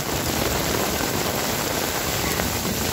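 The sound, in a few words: rain falling while walking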